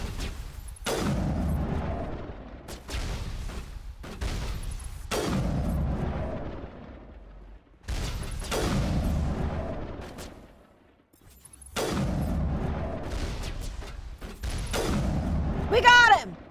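Rockets fired at the player in Mass Effect boom in a repeating rhythm, roughly every three seconds, each heavy blast decaying into rumble, with speech alongside.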